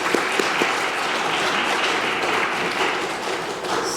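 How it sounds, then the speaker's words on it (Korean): A church congregation applauds during a Sunday morning worship service, steady dense clapping filling the room throughout, with a few sharper taps near the start. "한 번 더 박수 한번 감사합니다"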